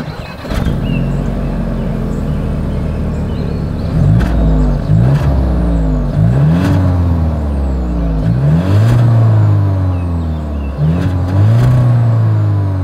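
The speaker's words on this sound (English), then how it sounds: "As always, here is that exhaust clip." A 2024 Volkswagen Taos revs repeatedly through its exhaust: loud, close engine blips that climb in pitch and fall back several times over a steady idle, with no talking.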